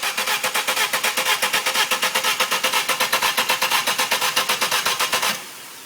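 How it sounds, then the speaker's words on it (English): BMW 318 injection engine cranking without firing: a loud, fast, even rhythmic chug of the starter repeating for about five seconds, then stopping abruptly into quiet. "when you start the engine, it makes like this"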